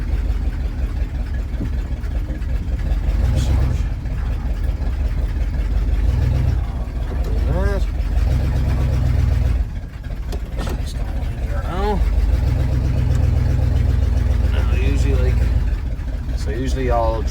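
A 1977 Dodge Power Wagon plow truck reverses with a low, rumbling engine idle that rises and falls in steps, while someone talks intermittently over it.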